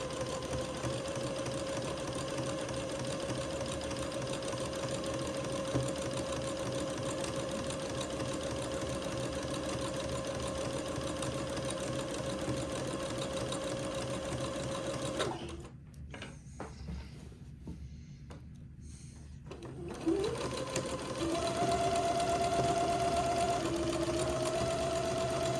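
Sewing machine zigzag stitching entredeaux to a 3x3 panel: a steady, continuous whirring hum with rapid mechanical ticking that runs for a long stretch, pauses briefly, then resumes at a slightly different pitch.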